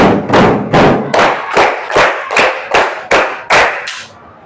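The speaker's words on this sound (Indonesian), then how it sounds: "Sekarang Bapak punya tepuk ding dar." Students in a class clap the "tepuk ding dar" pattern together, about ten loud, crisp unison claps in a quick steady rhythm, heard close with no voices.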